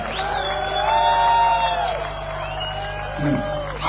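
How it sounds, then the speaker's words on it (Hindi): An audience at an AWPL event in Dehradun claps and cheers briefly, a modest burst of applause mixed with voices and a steady low hum. "आपके लिए होगी देखो ताली"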